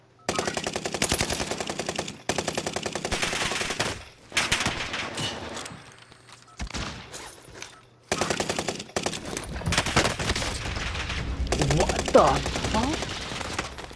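Rapid automatic gunfire in a video game, loud and close, sounding in long sustained bursts separated by brief gaps, with some player talk mixed in.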